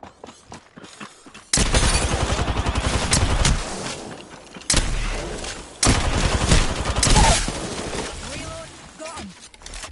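Dense video game firefight with heavy overlapping bursts of gunfire and loud impacts, coming in several sharp waves of shooting over a noisy battlefield backdrop.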